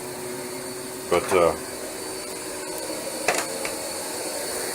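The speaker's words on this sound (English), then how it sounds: "this is how they vacuum their carpets" A vacuum cleaner runs on carpet with a steady, droning whir heard throughout, while a person speaks briefly over it.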